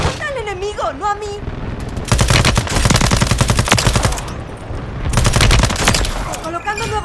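Rapid machine gun fire in Call of Duty Modern Warfare 3 comes in two long, loud, close bursts, with brief game radio voices before and after.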